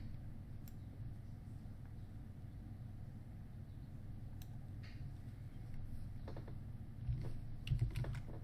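Computer keyboard typing as a URL is entered: a steady run of soft, quiet key clicks throughout, with a few louder clustered taps near the end and low background hum.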